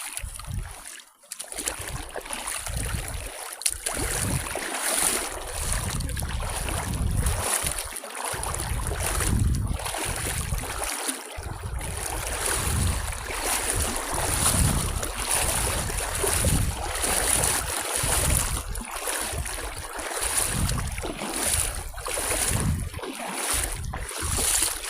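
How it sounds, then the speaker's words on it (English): Steady splashing and rushing water as someone wades across a creek in Australian bushland, continuous and close to the microphone with some wind buffeting and no speech. "I'm just going to cross the creek"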